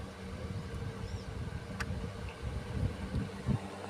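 Solar-powered electric fan switched to speed 2 on a modified sine wave inverter, producing a steady low whir and rumble with slight fluctuating flutter, close by and without talk.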